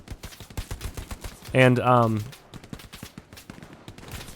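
Rapid automatic gunfire in the video game Heroes & Generals, a dense stream of sharp cracks throughout, with a brief spoken voice in the middle.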